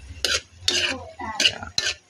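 Banana blossom adobo being stirred in a pan with a utensil, four quick close scraping strokes against the metal over a low background hum.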